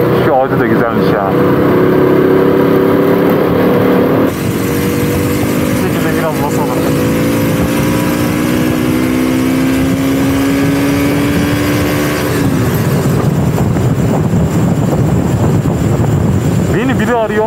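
A KTM 125 RC motorcycle's 125cc engine with stock exhaust idles and revs steadily, its pitch rising slowly and then dropping, running continuously close to the microphone.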